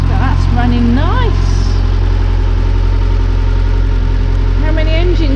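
Nissan Micra K10 engine idling steadily right after an engine wash, a constant low hum and rumble close by, with bursts of whistling or squeaky tones over it at the start and end.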